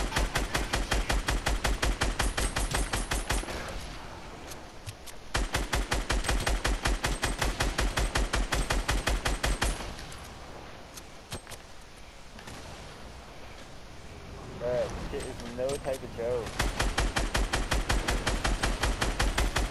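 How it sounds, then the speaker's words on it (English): Automatic gunfire in a video game, with long bursts of rapid shots that break off twice for quieter stretches of game noise and then resume. "I'm shooting at him."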